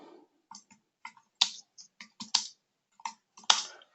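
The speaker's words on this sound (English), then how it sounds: "excuse my typing" Keystrokes on a computer keyboard come in irregular bursts of sharp clicks and taps, close and fairly quiet, with short pauses between groups and no talk.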